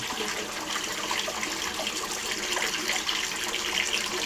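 Water gushes steadily into an aquaculture settler tank through an opened solenoid valve, a close, dense, continuous rush that stays even throughout.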